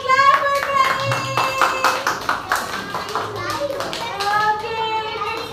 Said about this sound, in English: Clap for Pranay.